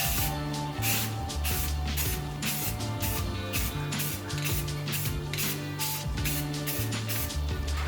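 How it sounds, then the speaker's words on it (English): Repeated bursts of aerosol primer spraying onto a 1995 Mitsubishi Eclipse, short hissing pulses in a steady rhythm with brief pauses, close and fairly loud, no voices. "get the primer shaken up so that I can spray it on the car"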